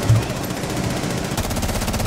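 Gunfire in Rainbow Six Siege ranked play, fired through a wall, comes as dense rapid bursts that roll steadily for about two seconds at a fairly loud, even level with no talk over it.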